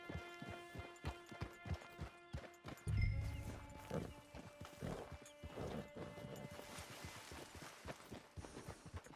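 Horse hooves clip-clop at a steady walking rhythm in the video game Red Dead Online, close and distinct, with a brief heavier clatter partway through and no speech over them.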